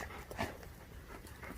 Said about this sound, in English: But these dogs are still going on.